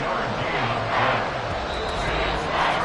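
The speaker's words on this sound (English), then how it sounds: "This crowd turning up the decibel level." A stadium crowd in the Madden 24 football game swells into a steady, loud roar on a late third-and-long play, with a commentator's voice running over it.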